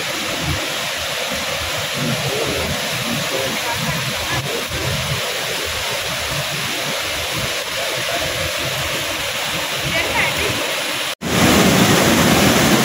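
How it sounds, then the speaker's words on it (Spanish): A waterfall roughly 23 metres high pours inside a rock cave, making a loud, constant roar of rushing water that fills the whole space and swells briefly near the end. "¿y todo el tiempo está fluyendo agua?"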